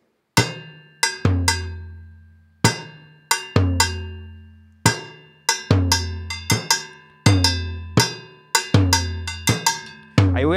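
A contra campana cowbell rings out with repeated sharp metallic strikes in a syncopated salsa pattern, loud and close, each hit decaying quickly, alone with no talk.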